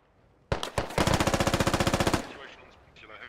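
Rapid automatic gunfire in the military shooter game Squad, a few single shots followed by a fast, loud, evenly spaced burst of about twenty rounds, then fading echoes.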